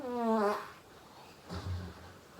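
A fart during a Valorant match, opening with a loud, buzzy, falling blast and followed by a second, softer, rumbling one about a second later.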